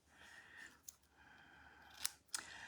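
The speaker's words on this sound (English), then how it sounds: "We're going to cut some of this off." Scissors snip through craft ribbon being trimmed for a bow on a stamped card, giving about three faint, crisp cuts in a quiet room.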